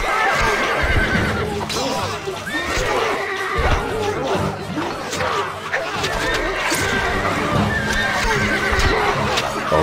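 Horses neigh and whinny repeatedly in the Stronghold Crusader video game, over busy clip-clopping hooves and mixed game sounds. Voices speak throughout.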